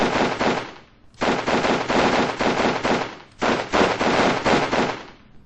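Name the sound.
rifles firing in a video game (TRW, Winterhorde)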